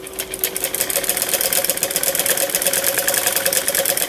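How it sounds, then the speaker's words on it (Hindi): A sewing machine runs a rapid, steady stitch along the crotch seam of the back panel of palazzo pants, with a half-inch margin, a close continuous whirring chatter that holds for the whole stretch with no talking. "ये मैंने यहाँ इस आसन पे सिलाई लगा ली है"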